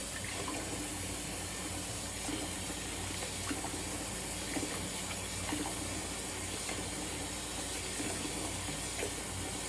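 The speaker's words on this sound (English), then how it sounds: "All right, just a warm water rinse here." Warm tap water runs in a bathroom sink for a rinse after a wet shave, a soft, continuous splashing flow with faint drips, fairly quiet and without talk.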